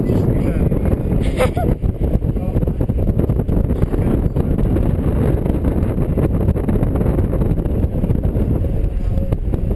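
Wind buffets the microphone atop a lookout tower, a constant loud low roar that never lets up for the whole stretch.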